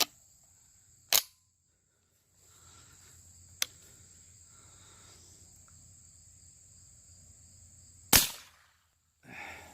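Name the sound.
22 LR shotshell rounds fired at targets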